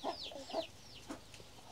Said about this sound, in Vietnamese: Một đàn gà này.